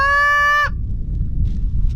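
A goose call blown as one loud, drawn-out, steady low moan lasts about two-thirds of a second and cuts off sharply, leaving quiet outdoor background.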